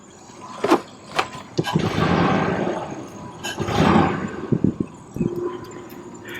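Under the hood of a 2000 Ford Expedition with a 4.6 engine, running in gear with a bad idler pulley: a rough, surging roar rises and falls, broken by sharp knocks and clatters, close and loud.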